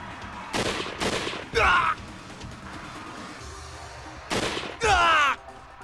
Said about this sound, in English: The Imperials fired their rifles, gunfire bellowing frighteningly in the distance.